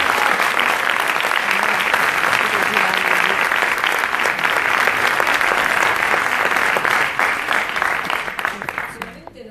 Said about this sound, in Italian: accogliamo con un enorme applauso Costanza.